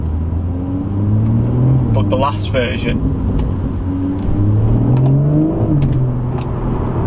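A BMW M140i with an M Performance exhaust revs and lifts off, the exhaust burbling and popping on overrun, loud and close, with someone talking briefly over it.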